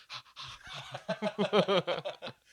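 A person pants in quick, breathy bursts, likely imitating the gasping that comes while brushing teeth with spicy toothpaste; about a dozen close, rhythmic huffs build and then taper off, with no other talk.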